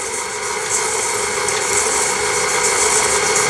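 An electric mixer runs at slow speed through cookie dough, a steady loud motor hum with a gritty whir that swells slightly over a few seconds, with no talking.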